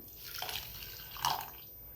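Water pours briefly into a bowl, with two soft splashy bursts close by against a quiet background.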